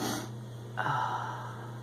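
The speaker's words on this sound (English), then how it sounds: "Forgive my sniffling." A short, faint nasal sniff near the start, followed by a soft breathy exhale under a low steady hum.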